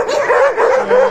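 An elderly fourteen-year-old Alabai, a Central Asian Shepherd dog at a shelter in the Kyiv region, gives three close, loud, drawn-out yelping barks in a steady rhythm.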